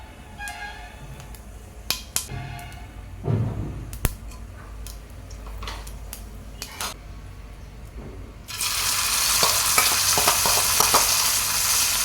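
Mustard seeds and cumin sizzle in ghee in a pan, first as scattered pops and small clattering stirs, then from around eight seconds a loud, steady frying hiss takes over and continues to the end.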